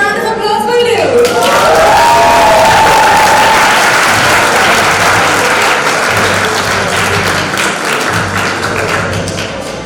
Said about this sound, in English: Just a round of applause for you.